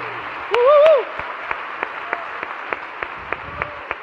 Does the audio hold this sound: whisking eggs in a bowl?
no